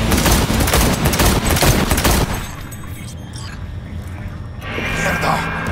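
Rapid automatic gunfire in the video game Cyberpunk 2077, a dense loud burst of shots for about two seconds, then quieter scattered shots and effects with voices talking over the action.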